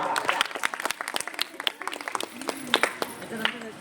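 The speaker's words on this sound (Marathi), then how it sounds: "जोरदार टाळ्या द्या, स्वागत करूयात त्यांचं" Applause from an audience welcoming a guest on stage, with bursts of clapping at close range mixed with crowd noise and voices.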